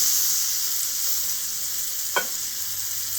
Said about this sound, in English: With the tenderloin, what I like to do is I like to gently roll it through the pan to get that sear all the way around.